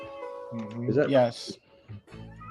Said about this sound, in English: I thought the meows were part of the soundtrack.